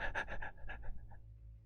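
A human voice imitating rapid panting, a quick run of about eight breathy huffs that fade out, close and fairly quiet.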